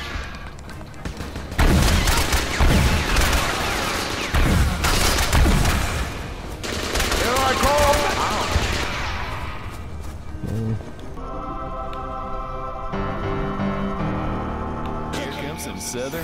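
Rapid bursts of sniper rifle and other gunfire with booming echoes in the cartoon war video game World War Toons, dense and loud for the first several seconds, then giving way to quieter game tones as someone talks over it.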